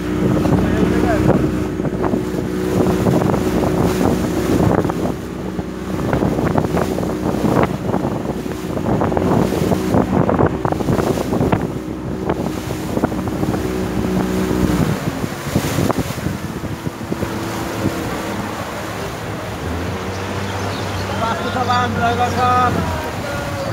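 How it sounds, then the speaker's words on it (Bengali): A speedboat runs across open water near Adorsho Gram in Narsingdi, its motor droning steadily under strong wind buffeting and splashing, with voices talking over the ride. "চলুন আমরা স্পিড বোটে যেতে যেতে আমরা আদর্শ গ্রাম দেখব"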